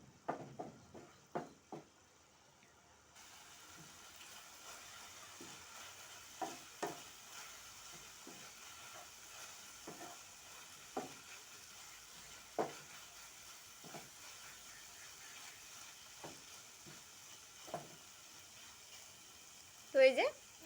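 Chicken chow mein stir-fried in a pan, a steady low sizzle under repeated sharp scrapes and clinks of a utensil against the pan, spaced irregularly throughout, with a louder clatter at the end.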